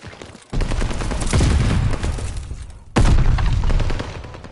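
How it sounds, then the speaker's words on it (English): A grenade blast in a video game hits in two loud, sudden booms about two seconds apart, each followed by rolling rumble and gunfire-like crackle, near and alone without talk. "That nade just hit me hard as fuck."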